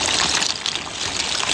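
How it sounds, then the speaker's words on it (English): A steady, full rush of boiling water bubbling and churning as dry pasta is added to the pot, loud and close with no talk. "Now the water has come to a boil, so I'm going to add in the pasta."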